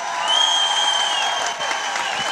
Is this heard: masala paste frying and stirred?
no